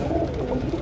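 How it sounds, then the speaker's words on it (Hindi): Pigeons kept for flying coo steadily at close range, a soft, continuous low murmur of overlapping calls. "चेक करें कबूतर, पैडी कबूतर है"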